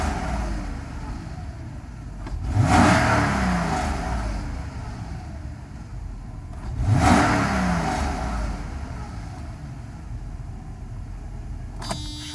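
A Mercedes SL500 with a repaired electronic throttle revs twice near 2.5 and 7 seconds, each rise swelling over a steady idle before settling back, with a brief click near the end.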